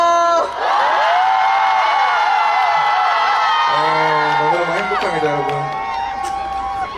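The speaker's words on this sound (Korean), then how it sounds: "함성!" A large outdoor festival crowd at a live concert cheers and shouts loudly and continuously, with high whoops and sustained voices filling the whole stretch at close range.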